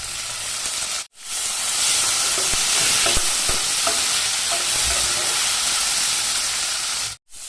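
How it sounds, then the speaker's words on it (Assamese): Ivy gourd and chickpeas fry loudly in a pan for an Assamese stir-fry, a steady dense sizzle with faint stirring scrapes that stops abruptly at the start and end. "কন্দলিখিনি 5-7 মিনিটমান সময় ভজাৰ পাছত মই ইয়াৰ ওপৰত বুটখিনি দি দিম।"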